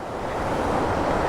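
Water rushes loudly and steadily around someone wading across a slippery river in the hills between Dharchula and Munsiyari. The broad, even roar swells slightly, with no voices.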